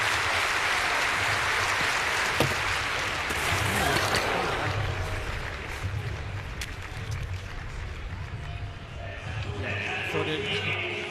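An American stadium crowd at the Diamond League meeting in Eugene claps rhythmically and roars for a women's long jumper, a dense, sustained wash of applause with a commentator talking over it.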